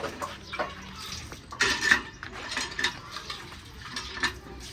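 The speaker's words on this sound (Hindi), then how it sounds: "आज नलके से क्यों भर रही हो पानी?" Water runs from a tap into a vessel beside dishes being washed, soft and steady, with occasional clinks of pots and utensils.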